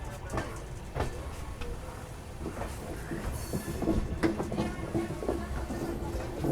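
The Saurashtra Mail runs on a double line, a steady rolling rumble with rhythmic clicking from the wheels and faint squeals, heard from the train without any voices.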